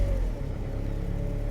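A freshly rebuilt engine in a 2005-2010 Chevy Cobalt starting up, a close, steady mid-pitched engine rumble that begins at once and holds an even idle for the short stretch.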